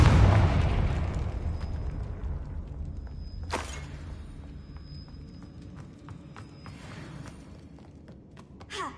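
Confringo blasting spell going off in a Harry Potter video game: one heavy explosive boom that rumbles and fades over several seconds, followed by a sharp crack, then a lighter burst as the echo dies away.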